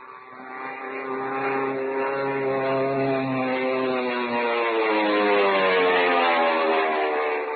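A steady propeller airplane engine drones continuously, loud and close, its pitch slowly sliding as it flies.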